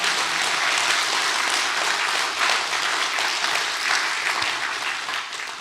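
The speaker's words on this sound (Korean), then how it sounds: "우리 이렇게 큰 신앙과 기도를 지켜주신 하나님께 감사의 박수 올려주시면 좋겠습니다" A church gathering at an academy event in Pohang gives a round of thanksgiving applause, dense and sustained clapping from a large audience, loud and even, easing off slightly near the end.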